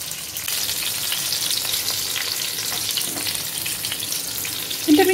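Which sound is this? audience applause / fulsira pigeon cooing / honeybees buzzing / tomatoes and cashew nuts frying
tomatoes and cashew nuts frying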